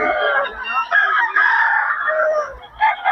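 Loud, drawn-out rooster crowing at an expo, one call running into the next, close by with a brief dip before another crow.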